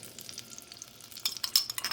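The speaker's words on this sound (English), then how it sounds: "we want to let the pan heat up a bit so things kind of sizzle" Close-up sizzling and crackling of a chicken and broccoli stir fry in a hot pan, growing louder and busier toward the end, with no talking.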